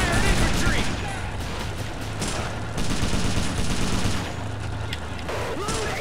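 Infantry gunfire in the WWII strategy game Faces of War, dense overlapping rifle and machine-gun fire with scattered shots in a continuous loud battle din.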